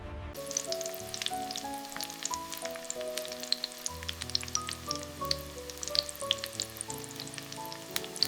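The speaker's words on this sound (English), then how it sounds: "we ensure every samosa is perfectly golden brown, thanks to our state-of-the-art frying tunnels." Steady, dense sizzling of cheese samosas deep-frying in hot oil in an industrial frying tunnel, with crackling pops throughout and a low mechanical hum underneath.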